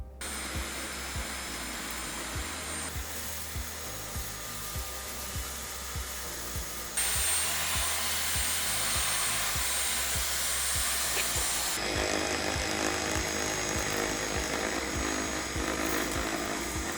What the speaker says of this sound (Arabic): مكنسة LG كورد زيرو A9 كومبريسور هي من فئة المكانس من دون كابلات، كوردلس